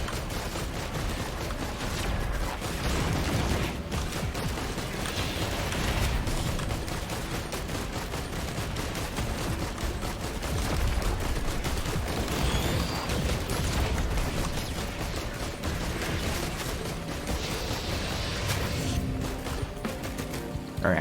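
In Risk of Rain 2, ukulele and missile items fire without a break, a loud, dense barrage of rapid gunfire-like bursts and explosions that goes on for about twenty seconds.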